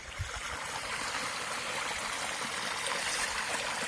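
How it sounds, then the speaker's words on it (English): Small waterfall on the Manistee River, a steady close rush and splash of falling water without a break, moderately loud. "Neat little waterfall."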